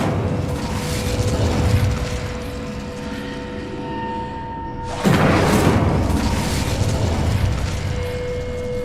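An Incendio fire spell is cast in the fantasy game Hogwarts Legacy, a sudden loud whooshing burst of flame that swells over a droning magical ambience and then lingers as a roaring rush.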